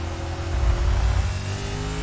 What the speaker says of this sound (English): you're gonna listen to the car and the tires